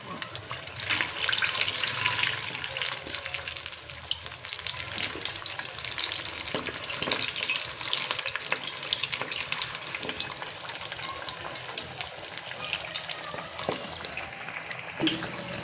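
Batata vada deep-frying in oil while being turned over on one side, a dense, loud bubbling sizzle running steadily throughout with occasional clicks of the utensil, no talking.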